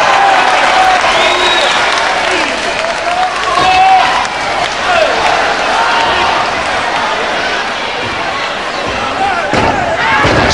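A televised wrestling crowd cheers and rises as one wrestler takes on another, a loud roaring wash with thuds from the ring and a commentator talking over the noise.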